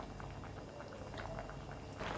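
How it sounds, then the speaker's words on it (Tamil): Aviyal mixed with curd simmers in a pot, a soft continuous bubbling with faint popping, close and quiet with no talk. "இது ஒரு 2 நிமிஷம் கொதிக்கட்டும்."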